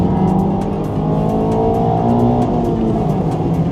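A race car accelerates hard on Tsukuba Circuit, its engine note climbing loud and close with rising revs and brief gear-change breaks, no voices over it.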